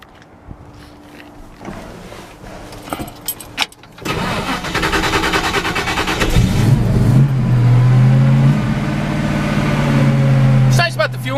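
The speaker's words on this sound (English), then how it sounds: "We'll go ahead and fire this one up for you." A 1965 Ford F100 Custom Cab short bed pickup cranks and fires, then settles into a loud, steady idle up close. Clicks and handling noises come before the start, and people talk briefly.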